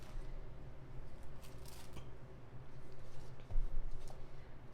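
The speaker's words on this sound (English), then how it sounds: "let's cut this up and round the corners" Scissors snip through a paper planner insert, giving a few quiet, close cuts and crisp paper rustles over a low, steady room background.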